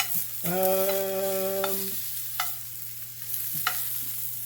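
Beef steak sears in a pan with a soft continuous sizzle, joined by a sustained tonal hum and a few clicks and knocks scattered through, with no talking.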